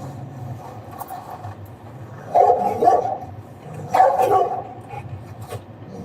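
A dog barks twice from some distance, two short bursts of rough yelps about a second and a half apart. The barks cut through steady outdoor noise, and no voices are heard.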